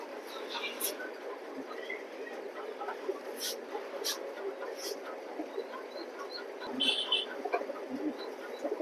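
A male chocolate grizzle pigeon coos in soft repeated calls amid a busy coop, with other birds clucking and a voice talking at times.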